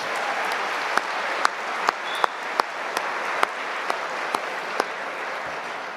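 Audience applause for a university big band at a university convocation ceremony, a steady dense clapping that carries on evenly throughout with no voices over it.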